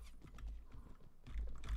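Horse hooves clip-clopping in a Viking Conquest battle of the Mount and Blade: Warband game, quick rhythmic thuds alongside faint clashing and background noise.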